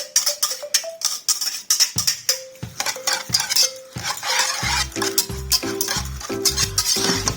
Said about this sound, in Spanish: batimos un poquito los huevos, que se mezcle todo